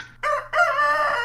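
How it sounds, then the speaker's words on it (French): A rooster crows in the morning in a video game, one loud, close cock-a-doodle-doo with a short opening note followed by a long, drawn-out call over faint background hum. "Ah, voilà, le petit coq du matin."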